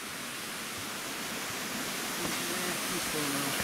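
Steady rushing water from Linhope Spout waterfall in Ingram Valley roars evenly throughout, a broad constant wash with faint voices murmuring underneath.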